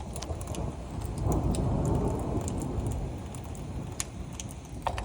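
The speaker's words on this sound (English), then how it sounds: "it's raining out there" Steady rain falls outdoors, a dense, even hiss of drops that swells slightly in the middle and holds throughout, with faint traffic rumble beneath and no voices.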